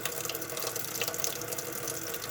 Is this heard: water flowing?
yes